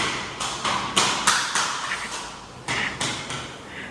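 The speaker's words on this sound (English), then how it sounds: "if you're wondering what's that knocking sound" Vinyl flooring being laid in a home gives a series of sharp knocks and taps, about a dozen irregular close thuds spaced unevenly over a few seconds.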